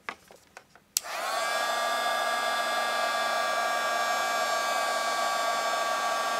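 Embossing heat tool blowing hot air over embossing powder on leafy areas of a papercraft flower, switched on after a few light taps and then a steady, close, continuous whoosh with a faint whine, no talking.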